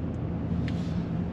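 Traffic jam on a city street in Benghazi: a low, steady rumble of idling cars and engines heard from inside a vehicle, with a faint brief hiss partway through.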